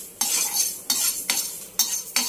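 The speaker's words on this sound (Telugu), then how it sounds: "స్టవ్ అనేది ఆన్ చేసుకొని మెంతులన్నీ 50 గ్రాములు మెంతులు అనేవి వేయించుకుంటున్నాము" Fenugreek seeds, 50 grams of them, being dry-roasted and stirred in a pan on a stove, with several sharp bright scraping strokes of a spoon against the metal recurring at irregular intervals over a steady faint background.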